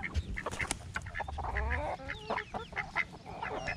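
Ducks and other fowl in a backyard flock quack and chatter in overlapping bursts, fairly close and continuous throughout.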